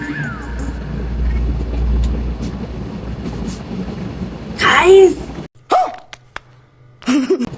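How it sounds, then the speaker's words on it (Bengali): A steady low engine rumble fills the first five seconds, then cuts out abruptly, leaving brief voices and a few short sounds afterwards. "বাইকের আওয়াজ"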